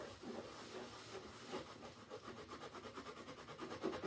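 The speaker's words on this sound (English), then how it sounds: "you take your rag and you just start to rub." A rag rubs image transfer potion across a sprayed surface, producing faint, soft rhythmic scrubbing strokes repeated back and forth at close range.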